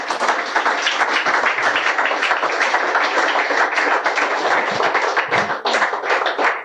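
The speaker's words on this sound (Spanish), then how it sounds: "Denle un aplauso al Rey." A church congregation applauds steadily, a thick crowd of claps holding at an even level throughout, close and loud, with no voices above it.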